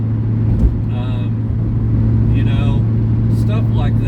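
A lowered Mercedes W126 300SD diesel driving, its low steady engine and road drone filling the cabin as someone talks over it.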